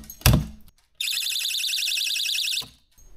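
Circuit screamer electrical outlet tracer, set to its quietest setting, gives a warbling high-pitched electronic alarm tone for about one and a half seconds. A click or knock comes just before it.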